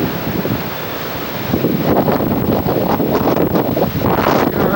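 Surf crashes and wind roars at a beach on Long Beach Island, New Jersey, with loud, continuous wash that swells in the second half and buffets the microphone.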